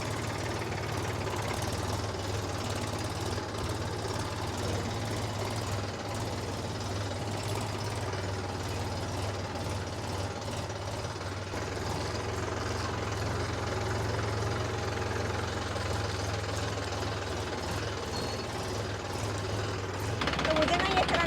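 A Mahindra tractor engine runs continuously while driving, a steady low diesel chug and rattle throughout, with a person talking over it.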